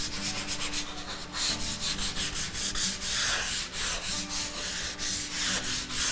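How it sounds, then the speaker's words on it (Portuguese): Steady back-and-forth rasping of sandpaper on a piece of pine crate wood, close and continuous with regular strokes, no talk. "Então, aí nós vamos lixar, né? Vamos dar uma lixada na peça."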